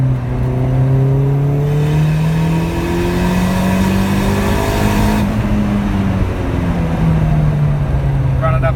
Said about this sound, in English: so if I shift down to third and give a little boost